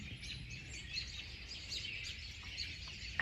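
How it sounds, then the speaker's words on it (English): Birds chirping and singing outdoors on a bare winter morning, a steady mix of high calls with faint background hiss, no talk. "I just wanted to capture those birds this morning."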